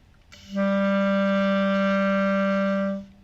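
A single low A clarinet note, two lines below the staff, held steadily for about two and a half seconds, full and reedy, starting cleanly and fading at the end.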